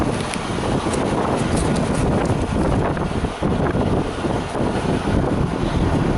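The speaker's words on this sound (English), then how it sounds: "It's really windy out here tonight" Strong, steady wind buffeting the microphone, a dense roaring rumble that barely lets up, with no voices.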